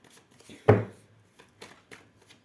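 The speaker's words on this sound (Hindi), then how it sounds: "हम इन सभी कार्ड्स को क्लियर भी कर लेते हैं।" Tarot cards being gathered and shuffled on a surface: one sharp slap of the deck, then several faint, soft riffling taps in a quiet room.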